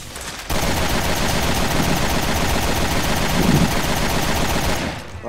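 Rapid automatic gunfire in the video game Resident Evil Revelations 2, a dense unbroken burst lasting about four and a half seconds, loud and close, starting abruptly and tailing off at the end.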